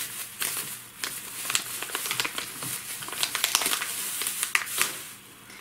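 A plastic packet of fertilizer is handled up close, giving continuous crinkling and crumpling with sharp irregular crackles for several seconds, no voices.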